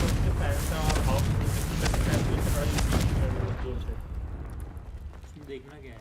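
A Confringo spell explosion in the Hogwarts Legacy video game booms loudly with a dense, crackling roar that fades into a softer rumble over several seconds, with a voice talking underneath.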